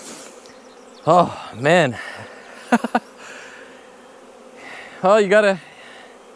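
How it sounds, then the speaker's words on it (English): A large swarm of honey bees buzzes in short loud bursts rising and falling nearby, with someone talking briefly between them. "And then we still have all these bees. So it's a pretty big size swarm again."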